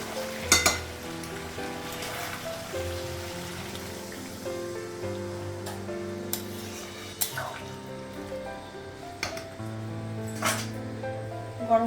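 Curry with potatoes sizzles softly while being sautéed in a pan in a Bengali home kitchen, a quiet steady hiss broken by occasional clinks of a utensil against the pan.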